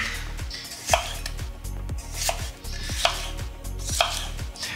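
A Ninja Foodi NeverDull steak knife slices through tomatoes on a cutting board, giving sharp, evenly spaced chopping thuds about once a second, close and fairly loud, with no talking.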